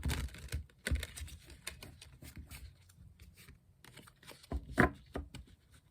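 Tarot cards being shuffled by hand, a quiet close-up patter of small flicks and taps with a couple of louder riffles, no voices.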